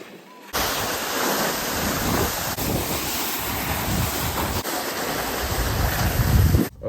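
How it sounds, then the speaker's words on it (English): Strong wind buffets the microphone outdoors at Powder Ridge, making a loud, continuous roar that lasts almost the whole time with only slight swells. "All right, this is gonna be pretty windy."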